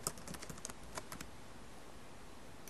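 A password is typed on a computer keyboard as a quick run of soft, close keystrokes at the start, followed by near silence.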